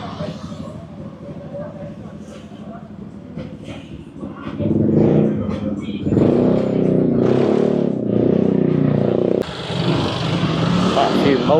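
Motorbikes pass along a night street in Legian, Bali, their engines swelling from a steady rumble into louder nearby revs, with speech audible over the traffic.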